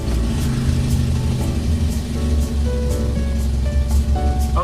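An old car's engine runs steadily after being started, a loud low rumble with a continuous mid-pitched drone and slight fluctuations in speed, heard close up with no talking.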